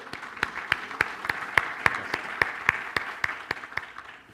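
Audience applause for a panelist at a data protection panel, heard as a steady, evenly spaced series of sharp claps, like a small group clapping in rhythm, moderately loud and close.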